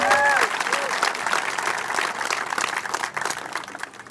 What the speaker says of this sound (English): Let's give Trip a round of applause.